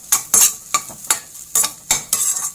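Karamani beans frying in butter in a pan, stirred in quick bursts: about eight bright scraping, sizzling strokes in a fast irregular rhythm, close and loud, with no voices.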